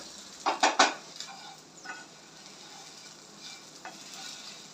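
Spiced stuffed okra (bharli bhendi) being lifted from a pan onto a serving plate, a few quick close clinks and scrapes at the start, then soft intermittent scraping over faint background sizzle.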